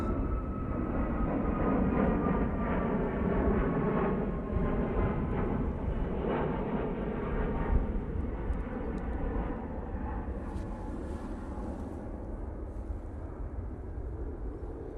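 An airliner going around at Manchester Airport: a loud, steady, broad engine roar that holds for the whole stretch, easing only slightly toward the end.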